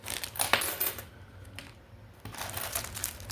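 Commemorative coins clink and rattle in their separate packets while being unboxed, a cluster of small metallic taps and crinkles up close, pausing briefly before resuming.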